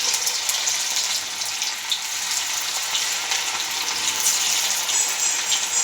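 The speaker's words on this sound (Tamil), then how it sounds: "இப்படி போட்டுனே சத்தம் கேட்கணும் பொறிஞ்சு வரணும் அப்போ தான் எண்ணெய் நல்லா காஞ்சிருக்குன்னு அர்த்தம்" Hot oil crackles and sizzles continuously as cauliflower pieces deep-fry for Gobi 65, a steady close-up bubbling hiss with occasional sharper pops.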